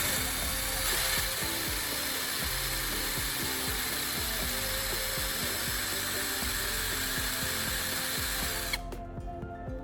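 A spark plug rod chucked in a drill is ground down at both ends, a steady, loud whirring grind with ratcheting mechanical texture running continuously before cutting off near the end.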